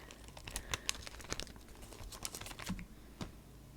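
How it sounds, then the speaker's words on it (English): Sheet face mask being peeled out of its packaging, a close, soft run of crinkling and tearing with irregular light crackles. "All right, so I'm going to peel this away."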